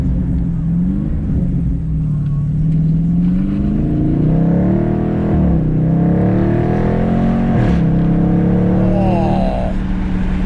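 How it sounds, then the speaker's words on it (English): A 2019 Dodge Charger SRT 392 Scat Pack runs its loud exhaust through rising revs, with deep droning pulls and brief dips and barks at each gear change, heard from inside the car. "When she built some back pressure, that exhaust just barks on the gear changes."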